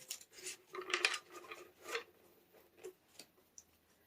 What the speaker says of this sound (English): So once I've shuffled my cards